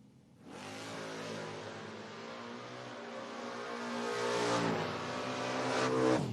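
A Malibu and a 1978 Camaro launch side by side at a footbrake drag race, their engines roaring loud and continuous and climbing in pitch as they accelerate hard down the strip.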